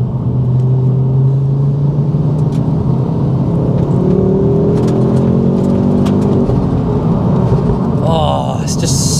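Mk2 Ford Focus RS tuned with a Mountune MR375 kit revving hard as it accelerates on a country road, its engine note rising through the gears with a strong rumble heard from inside the car.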